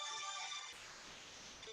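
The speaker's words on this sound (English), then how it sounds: "Sorry, that's my phone going" A mobile phone's ringtone plays a bright, steady electronic tone and then cuts off abruptly, leaving quiet room noise.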